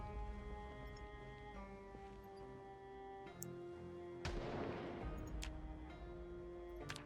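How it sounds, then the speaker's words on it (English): A single distant gunshot or explosion in the zombie survival game Project Zomboid, a broad burst rising over steady tonal game ambience and fading slowly, with no talk over it. "That sounded like a gunshot. Or an explosion."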